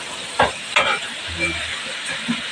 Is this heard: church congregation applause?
no